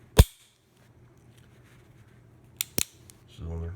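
Mechanical clicks from an antique Remington Smoot No. 4 or No. 3 New Model revolver as the hammer is cocked and the cylinder rotates: a sharp snap at the start, then a quick double click later, with a faint low voice at the very end.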